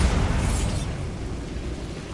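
Bombarda explosion spell going off in Hogwarts Legacy, a heavy booming blast that rumbles and fades over a couple of seconds, loud and close with no talk.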